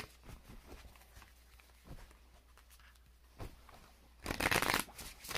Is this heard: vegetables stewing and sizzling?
no